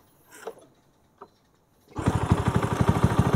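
Old motorcycle, freshly washed, starting up: after a couple of faint knocks and a quiet pause, the engine suddenly catches and settles into a loud, close, rapid pulsing idle.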